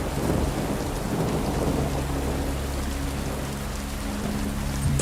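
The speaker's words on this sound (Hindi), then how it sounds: "बादल हैं, बूंदाबांदी हो रही है और भी डरावना माहौल बन गया है।" Drizzling rain falls on a cloudy night beside a graveyard, a dense, steady patter with a low rumbling undertone that swells slightly at the very end; no one speaks.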